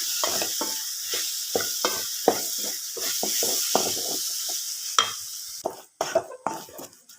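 A cooked banana mixture is stirred continuously in a pan, a spoon scraping in quick repeated strokes over a soft sizzle, the strokes growing sparser and sharper near the end.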